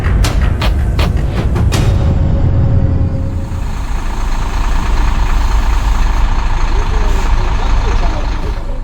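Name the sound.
Hino FM8J truck engine idling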